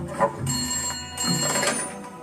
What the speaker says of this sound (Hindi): विधायक जी का फोन है।